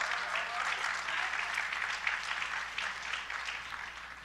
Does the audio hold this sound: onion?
no